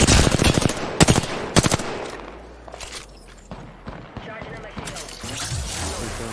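Gunfire in the battle-royale shooter Apex Legends: loud, rapid automatic bursts up front, then scattered shots and clatter fading into busier background game noise, with voices talking over it.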